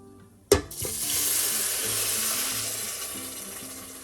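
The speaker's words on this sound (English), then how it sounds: "Let's go ahead and dump that first water in there." Water poured into a rice cooker's inner pot: a sharp knock, then a steady splashing gush of running water that continues evenly for several seconds, close and fairly loud.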